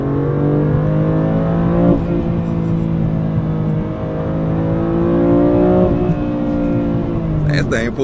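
A BMW F87 M2 Competition engine revs loud and close after a downshift to second gear, its rising drone steady and sustained through the cabin, with a brief exclamation from a voice near the end.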